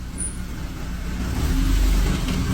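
A Holly Springs Police car pulling up close, its engine rumble growing louder as it rolls in and settles.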